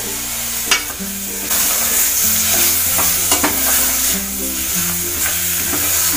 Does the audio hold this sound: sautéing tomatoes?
yes